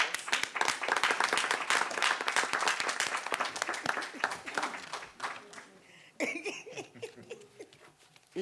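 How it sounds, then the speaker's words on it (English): Audience applause at a board business meeting: dense, steady clapping from a roomful of people for about five seconds, thinning out, then a brief burst of talk and a few more scattered claps. "So I got to give everybody a round of applause."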